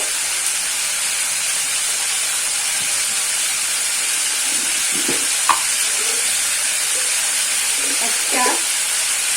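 Bay leaf and cumin seeds fry in hot oil, giving a steady loud sizzle and hiss throughout, with a few faint clinks and scrapes near the end.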